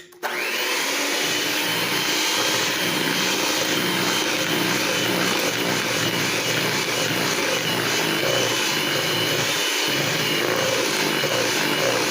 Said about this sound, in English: Mix with a hand blender.